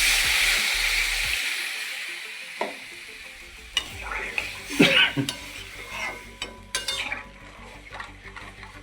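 Water goes into a pan of frying spices for a fenugreek and papad curry, and a hiss rises, then gives way to quieter bubbling and several clinking spoon strokes against the pan.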